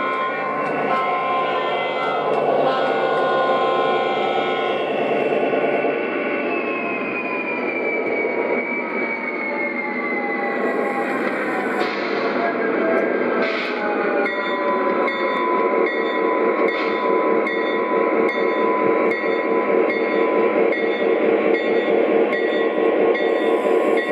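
A Lionel Legacy O gauge model Conrail GP diesel locomotive from the 2012 Signature line runs continuously, giving a loud, steady motor drone and electronic engine sound whose tones slowly drift and shift throughout.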